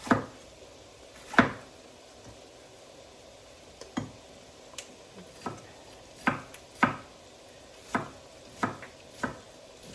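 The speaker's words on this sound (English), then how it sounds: "Chop a few red pepper, little red peppers in there." Knife chopping small red peppers on a board: about a dozen sharp, separate taps at an irregular pace, close and fairly quiet, with faint kitchen background and no talk.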